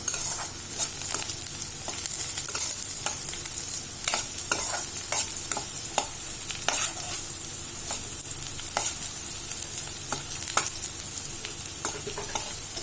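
Spice powder hisses in hot oil for okra rice, a steady close sizzle of frying broken by scattered sharp pops and spoon scrapes as it is stirred, with no voices.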